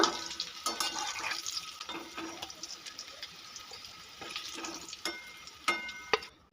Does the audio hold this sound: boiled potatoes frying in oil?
yes